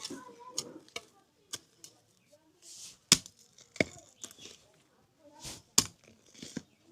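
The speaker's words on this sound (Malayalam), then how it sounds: "ഞാൻ കൊത്തിയെടുക്കട്ടെ, കുറച്ച് കൊത്തിയെടുത്ത്" Soil is dug by hand to harvest taro, giving faint, close, irregular knocks and crunchy scrapes with quiet pauses between strikes and some low talk.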